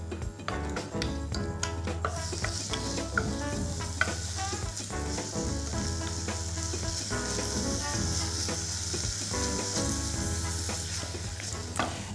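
A sauce of garlic, ginger and cinnamon sizzles and fries steadily in a pan over raised heat, with crackling spatter and occasional stirring clinks, close and continuous.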